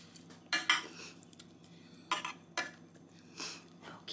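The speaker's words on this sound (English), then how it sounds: "spreading this all around in my casserole dish" A Brussels sprout and bacon casserole is spread around a casserole dish with a utensil, making intermittent scrapes and clinks against the dish, separated by quiet gaps.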